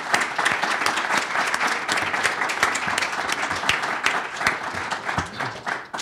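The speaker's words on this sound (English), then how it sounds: "I think first a round of applause for our panelists" An audience at a National Press Club breakfast claps for the panelists, a moderately sized room of steady, crisp applause with distinct individual claps, tapering near the end.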